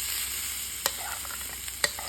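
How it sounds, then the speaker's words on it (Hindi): Potato masala sizzles in a frying pan while being stirred, a steady hiss with two sharp scrapes of the spoon against the pan. "अब जो हमने आलू का मसाला तैयार करके रखा था उसे हम पैन में डालेंगे।"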